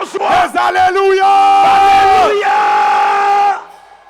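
A church congregation at a Sunday worship service shouts and cries out in joyful acclamation, a loud, sustained mass of voices with ringing, sung tones rising together before fading.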